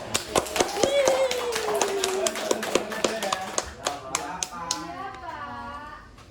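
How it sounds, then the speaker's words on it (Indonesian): Junior high students in a classroom clap for a group of classmates: scattered, uneven claps over a few seconds, mixed with overlapping young voices that fade into chatter. "Beri tepuk tangan untuk kelompok 3."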